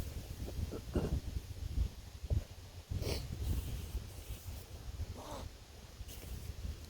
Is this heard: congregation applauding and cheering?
no